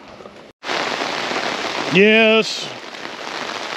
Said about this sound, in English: I'm actually trying to build a fire in the rain.